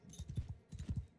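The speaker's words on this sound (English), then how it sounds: "Oh, this horse is so slow." Horse hooves clop in the video game Mount & Blade II: Bannerlord, a quiet, rhythmic run of soft thuds in two quick groups of four, with no talk over them.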